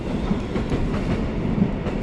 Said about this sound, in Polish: O, jeszcze pociąg przyjechał.